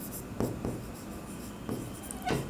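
A pen scratches across paper while writing accounting journal entries, a few quick soft strokes close by, spaced out over a quiet background.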